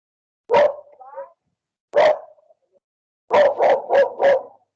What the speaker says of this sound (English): yeah, the dogs are going to be at it for a while.